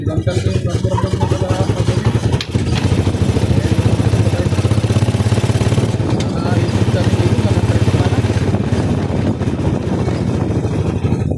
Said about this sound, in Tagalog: Maganda yung tunog ng motor.